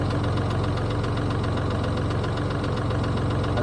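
A tractor engine runs with a loud, steady, close-up knocking drone and constant vibration, unchanging throughout and with no voices over it.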